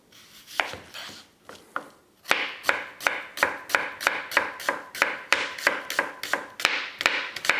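Knife finely slicing chillies and cabbage on a cutting board for coleslaw, a few scattered cuts and then a steady run of sharp, evenly spaced chops, close and clear with no talk.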